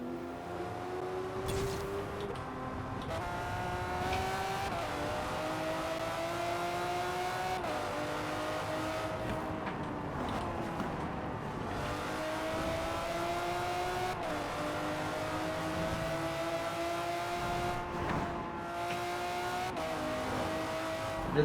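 Lamborghini Murcielago engine in a racing video game, steady high-pitched revving that climbs and drops repeatedly through gear shifts, with occasional tire squeal, continuous and fairly loud throughout.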